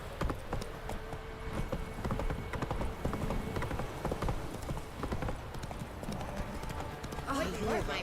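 Horse hooves clip-clop in a steady rhythm over continuous talk and background chatter, with a brief neigh-like call near the end.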